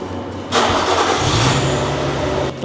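A Nissan Skyline V35 with its naturally aspirated V6 and Fujitsubo exhaust starts up close by, a sudden loud burst settling into a steady, rumbling idle with a slight rev, running alone without talk.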